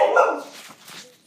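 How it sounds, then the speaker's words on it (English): A single loud, close dog bark that quickly fades into a softer trailing whimper or yip. "The dog makes so much noise."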